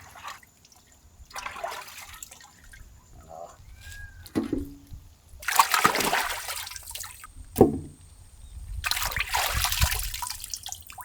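Large pieces of boar pork are washed by hand in water outdoors, with splashing, sloshing and pouring in several bursts separated by quieter trickles and handling sounds, close by and without talk.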